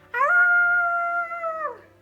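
A single drawn-out howl from a human voice imitating a wolf, rising at the start, holding steady, then trailing off, alone and close.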